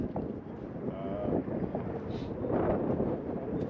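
Steady, cold wind on a golf course buffets the microphone with a continuous rumbling roar, gusting louder in places.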